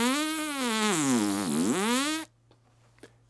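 Buzzing lips with no mouthpiece or instrument, the trumpet warm-up buzz, a loud nasal drone sliding down in pitch and back up for about two seconds before stopping abruptly, leaving quiet room noise.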